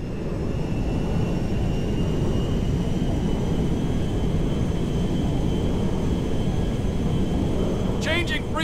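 A cargo jet in GTA 5 gives a steady, loud, broadband engine roar for the whole stretch, with no clear rise or fall. A few brief chirps come near the end.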